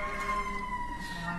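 A distant siren wails outside during courtroom testimony, faint and steady with sustained tones, over quiet room noise.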